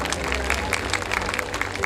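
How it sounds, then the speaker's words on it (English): Audience applauding at a school annual day and prize distribution ceremony, dense steady clapping throughout this short stretch with faint crowd murmur beneath. "please give him a big round of applause"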